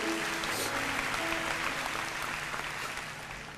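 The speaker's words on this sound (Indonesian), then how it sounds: "Beri tepuk tangan untuk Tuhan Yesus." A church congregation applauds in a large hall, a continuous wash of clapping with a faint sustained tone beneath, even in level and gradually fading.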